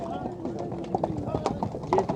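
Horse hooves clip-clop at a horse market, several irregular steps close by, while people talk over them.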